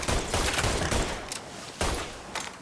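Rapid gunfire from the Mafia III video game rattles in dense, loud bursts, with sharp volleys standing out around the start and again near the two-second mark, and no voices.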